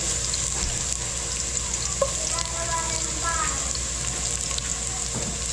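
Onion and garlic fry in a pan while preparing a Christmas Eve Noche Buena meal, giving a steady close sizzle with scattered stirring clinks and faint talk in the background.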